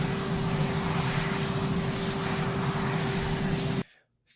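A helicopter engine heard near and steady, a continuous broadband roar with a sustained tonal hum, running without a break until it cuts off abruptly near the end; no one talks over it.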